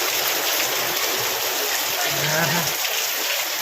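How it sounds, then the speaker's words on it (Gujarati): Heavy rain pours down steadily, a dense, loud hiss of falling water like a stream or downpour; a voice murmurs briefly under the continuous wash. "પાણી ભાઈ પાણી પાણી છે મિત્રો જો વરસાદ તમને દેખાડું મિત્રો"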